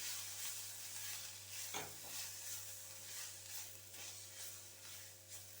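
Spiced onion stuffing with coriander powder, garam masala and amchur fries in a pan, a steady close sizzle broken by repeated scraping stirs.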